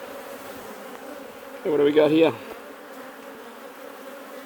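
A burst of honeybee buzzing swells loudly for about a second close to the microphone as the insects fly around an open hive being inspected, over a steady background hum of the colony; a person speaks briefly.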